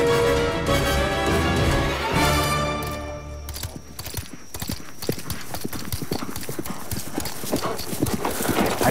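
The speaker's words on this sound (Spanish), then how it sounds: "¡Corrieron a los caballos!" Horses set running in a dramatic scene: after a brief swell of music, dense hoofbeats pound close and loud in a fast, continuous clatter that carries through to the end.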